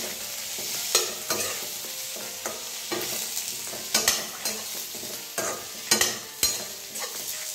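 Green chilli kharda with turmeric stirred and sautéed in a pan, a spatula scraping in irregular sharp strokes over a steady soft sizzle, close and moderately loud, with no talking.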